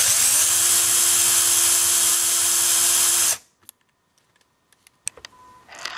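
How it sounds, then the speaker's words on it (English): A loud, steady power drill whines for about three seconds drilling a hole for a screw, then cuts off, leaving a quiet room with a few faint clicks and taps. "I'm going to use a bigger drill and then just taper it a little bit"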